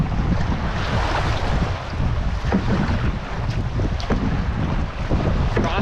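Wind-driven waves on Slocan Lake slapping against a heavily loaded canoe, a loud continuous wash and splash with strong wind rumble on the microphone, no voices.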